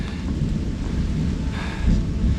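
Thunder rumbles low and steady under a constant hiss of rain during a storm on a forest hiking trail, the Knobstone Trail, with a slightly louder swell near the end.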